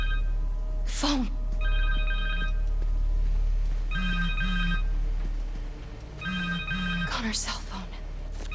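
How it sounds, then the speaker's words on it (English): A cell phone rings in Marvel's Spider-Man 2, a repeating electronic ringtone in short bursts of bright beeps with pauses between, under occasional speech. "Connor's cell phone."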